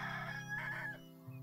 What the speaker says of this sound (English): Hey, little chicken.